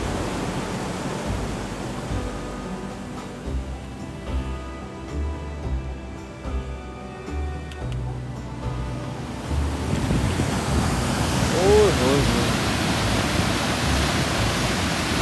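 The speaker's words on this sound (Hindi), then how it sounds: "एक ऐसी वाटरफॉल जो ट्रैकिंग के सिर्फ 30 मिनट बाद ही नजर आ जाती है, जिसका फ्लो इतना तेज है कि इसकी आवाज ऊपर जहाज बांडा तक भी फील होती है" Rushing waterfall near Kund Banda in Upper Dir, a strong-flowing fall reached by a short trek, heard as a steady broadband roar of water that swells louder in the second half, with no voices.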